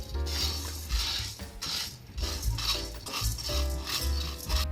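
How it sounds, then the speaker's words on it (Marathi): Sago pearls dry-roasting in a wok (kadhai): a steady, close scraping and rustling of the dry grains stirred against the metal pan, with rhythmic strokes and a faint low hum underneath. "आता आपण कढईमध्ये 1 वाटी साबुदाणा हा भाजून घेणार आहोत।"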